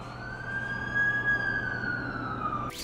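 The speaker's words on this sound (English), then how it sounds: "That's the ambulance I called." An ambulance siren in The Amazing Spider-Man 2 video game wails steadily with a sustained, slowly wavering tone over a low vehicle rumble, cutting off abruptly near the end.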